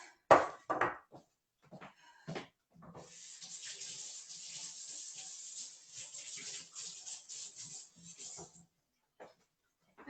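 Tap water runs over something being rinsed in a home kitchen while lentil soup is made, a soft steady hiss lasting several seconds, framed by short clinks and handling noises before and after.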